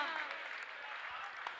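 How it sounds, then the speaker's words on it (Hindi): Audience applause at a Jain religious gathering, a steady wash of clapping filling the hall for its whole short span at moderate level, with no voice over it. "आदरणीय राकेश भैया जी, एक बार जोरदार तालियों के साथ।"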